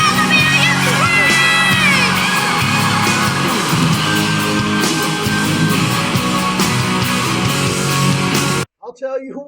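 A large crowd screams, whoops and cheers loudly all at once, a dense sustained roar of many voices that cuts off abruptly near the end.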